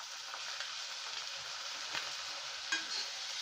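Tomatoes frying with browned onions in a pan for hotel-style cauliflower and pea curry, a steady soft sizzle with a few faint stirring clicks, continuous and moderately close with no voices.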